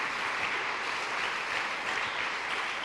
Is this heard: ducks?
no